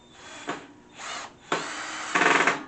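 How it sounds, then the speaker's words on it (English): A power drill drives screws into a DHP Aiden metal futon frame in four short whirring bursts, each rising and cutting off, the last one longest with a chattering ratchet texture, close and fairly loud with no talk. "I'm basically just going to bolt these screws in."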